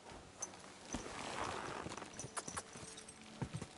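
Horse hooves clip-clop in a steady trotting rhythm in Kingdom Come: Deliverance 2, fairly faint, over a soft whooshing background.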